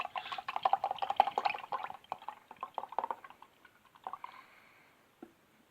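Shaken Baileys latte pours from a bottle into a wine glass, a soft close-up gurgle and splash that runs for a few seconds and then trails off into quieter drips.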